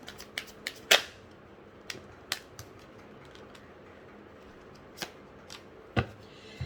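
Tarot cards shuffled and drawn from a deck: a few crisp riffling snaps and slaps spaced through a quiet room, with soft handling noise between them and no talk.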